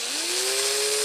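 A small power drill bores out plastic axle holes in the base of a die-cast Welly Audi R8 V10 Coupe model car. It gives a steady, close, high whirring whine with a tone that rises as the bit spins up, alone and without speech.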